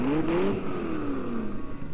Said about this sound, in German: Der Wagen schnurrt, was?